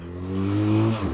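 A motorcycle engine held at full throttle on a trip through Mexico, a short, close, loud drone that climbs steadily in pitch and then eases slightly, with no talk.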